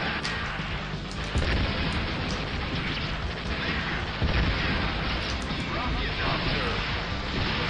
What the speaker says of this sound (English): Just a rocket launcher from that close